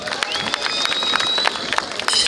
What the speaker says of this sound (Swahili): Tuwapigie makofi majaji yetu